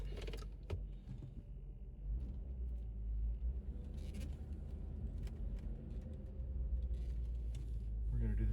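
Land Rover D2 engine running steadily during an RPM test, a continuous low rumble with a slight rise in level toward the end.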